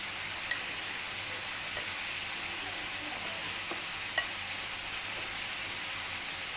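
Onions frying in a pan give a steady, soft sizzle throughout, with a few faint clicks of stirring and no voices.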